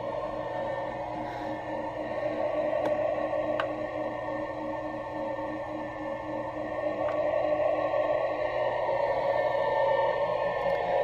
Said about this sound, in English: the white noise changed. It got a little bit louder and the sounds themselves